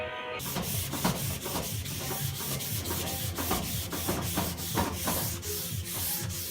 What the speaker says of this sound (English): So we got that 180 block sanding done.